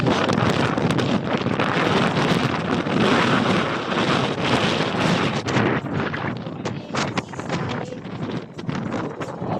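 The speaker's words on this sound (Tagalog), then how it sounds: "sobrang hangin" Strong gusting wind roars over the microphone continuously, loud and close, easing slightly toward the end.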